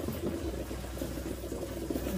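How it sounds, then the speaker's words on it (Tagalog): A pot of water heats on the stove for palabok noodles, giving a steady low bubbling and simmering that stays faint and close throughout, with no talking. "Antayin lang po natin makapihan ng tubig."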